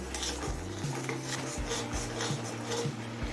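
A spoon stirring sweet chutney in a pan over a medium flame, with steady scraping and soft clinks against the metal, faint and close, under a low background hum.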